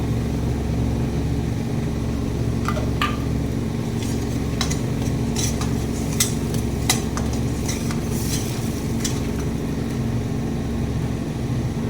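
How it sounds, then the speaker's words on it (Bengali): Bengali boal fish curry with mustard-poppy paste being sautéed in a pan, a steady sizzle and frying hiss with intermittent clinks and scrapes of a spatula against the cookware. "এটাকে এখন ভালো করে কষিয়ে নেব বন্ধুরা"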